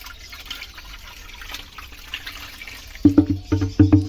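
Water runs in steadily to fill a fish tank, a low wash for most of the stretch before louder, splashing gushes break in over the last second.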